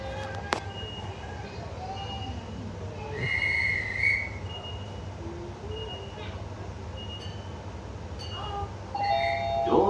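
Commuter rail station ambience on Brisbane's Cleveland Line, with a train idling and moving, a brief whistle-like tone, clanks, and scattered electronic chimes and beeps over a low rumble.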